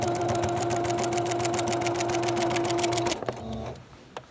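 A sewing machine runs steadily, stitching in the ditch along the seams of a pinwheel quilt with black thread, its rapid needle rhythm close and loud for about three seconds before stopping and leaving quieter handling noise.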